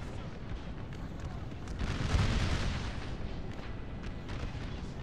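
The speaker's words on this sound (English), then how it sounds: "Oh, there's the mortars." Mortar fire in an American Civil War battle game booms steadily at a distance, with a swelling rumble of shell impacts mixed into constant battlefield noise and scattered gunfire.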